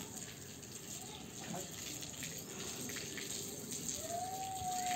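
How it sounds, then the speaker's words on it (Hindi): Water flows from a pipe on a rooftop while a cat plays with the stream and bites at it, a faint, continuous splashing trickle, with a soft voice partly heard underneath. "ये देखो कॉटन ना पाइप से ऐसे खेलती है पानी से"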